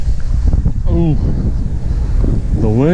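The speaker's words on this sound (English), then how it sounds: "The wind is it's a headwind as well as coming from the right, so that's no fun." Strong headwind from the right buffeting the microphone during a fixed gear bike ride in Benicia, California, a continuous low rumbling roar with short vocal sounds over it.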